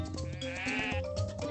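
A single wavering sheep bleat from the video game Star Equestrian, close and clear, lasting about a second over a low background tone.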